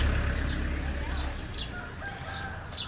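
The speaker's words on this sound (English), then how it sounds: "I can't believe how many chickens have we got floating around this place at the moment." Several chickens cluck and call repeatedly over a low rumbling background, with occasional higher squawks, moderately close and outdoors on the outskirts of Sukhothai, Thailand.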